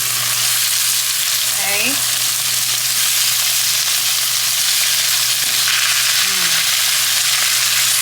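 Asparagus and arugula sauté in a hot pan with a sprinkle of salt, making a loud, continuous sizzle close by while they are stirred, with a brief word spoken over it.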